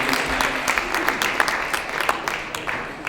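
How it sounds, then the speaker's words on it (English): Audience applause at a senior banquet, a dense, fairly loud wash of many hands clapping with sharp individual claps standing out, sustained throughout. "let's have a round of applause for their hard work, dedication, and inspiration"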